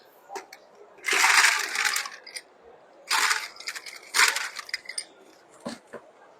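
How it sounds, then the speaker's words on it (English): Ice cubes clatter into a glass in several loud, crackling bursts separated by pauses, with smaller clinks between them and no talking. "I will get a glass, I will get some ice"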